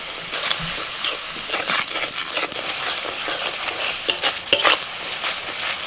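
Ginger, garlic and green chilli fry in a pan with ground spices while a spoon stirs them, producing a steady close sizzle broken by scraping and clattering strokes, with no talking.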